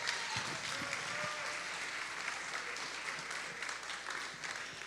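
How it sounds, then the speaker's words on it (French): An audience in a Quebec music-show hall applauds steadily, a dense patter of many hands clapping at moderate loudness for several seconds, with faint voices mixed in. "on peut applaudir Mario pour ses tirages"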